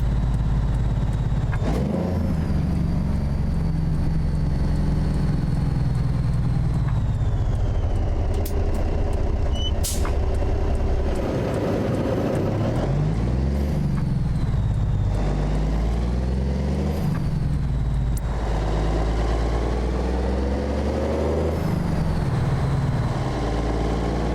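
Kenworth K100E cab-over truck with a 444 engine in American Truck Simulator, a steady loud diesel drone that rises and falls through gear changes, with brief air-brake hisses, heard alone without talk.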